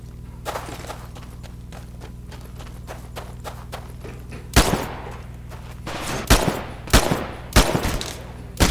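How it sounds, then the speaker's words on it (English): Gunfire in the Xbox One beta tutorial of the video game Titanfall during a live-fire exercise: faint scattered shots over a low hum, then several louder sharp bursts in the second half. No talking. "Minimal damage sustained during live fire exercise."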